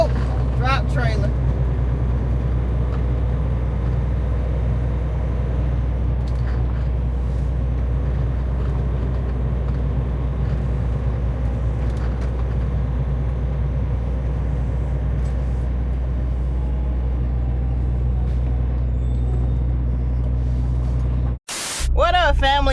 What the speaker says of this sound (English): I know it's loud because that trailer's still running